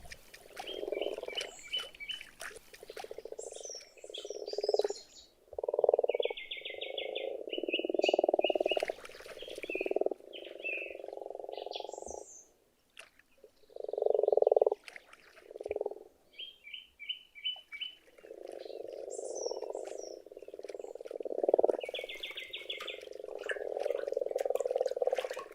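Grass frogs croak in a forest pond in Hungarian wilderness in early spring. The close chorus of repeated croaks swells and fades in waves, with bird chirps over it.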